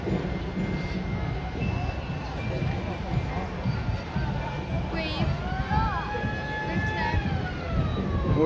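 Siren from an emergency vehicle at a St George's Day event in 2022, a rising and falling wail carried over steady crowd and traffic noise, moderately distant.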